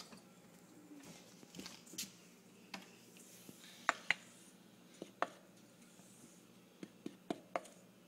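A small wooden spoon stirs dry crepe ingredients in a bowl, making soft scraping and scattered light taps and clicks against the bowl, faint and close.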